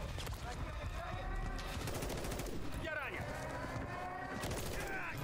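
Rapid automatic gunfire with bursts and booms in the shooter game Call of Duty: Modern Warfare 3, dense and continuous, mixed under a voice talking.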